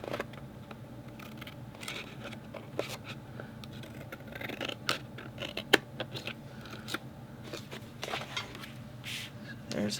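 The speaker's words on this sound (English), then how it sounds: "Now we need to trim the circles." Scissors snip around paper circles at close range, quick irregular cuts and rustles of paper over a faint room hum, with no voices.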